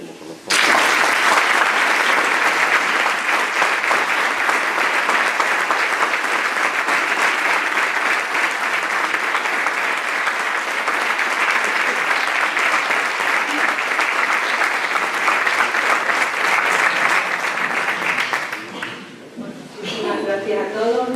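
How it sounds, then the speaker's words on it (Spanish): Loud, sustained audience applause for a book team at a launch event, steady dense clapping for most of the stretch before fading near the end, with a voice briefly heard afterward. "les pido un aplauso para todos ellos"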